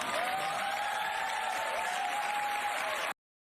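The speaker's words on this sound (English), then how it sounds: "And people are clapping for it." Studio audience applause, a steady even wash of clapping heard faintly under a sustained tone, stopping abruptly.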